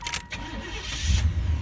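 A 1990 Chevrolet Caprice LS Brougham with 71K original miles cranks and starts up, its engine catching into a steady low rumble that builds toward the end, heard close and alone.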